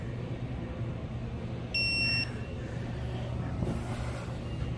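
A digital torque wrench on rear brake bolts of a 2019 Ford Transit T250 van gives one steady electronic beep lasting about half a second. It sounds over a constant low hum in a garage, with no talking.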